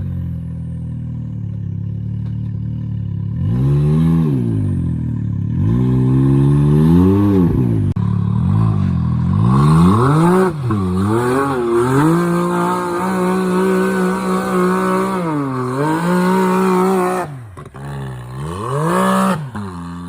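A Can-Am X3 side-by-side engine bogs and revs, its pitch climbing and falling in long repeated sweeps, loud and close, with a brief drop near the end before it rises again.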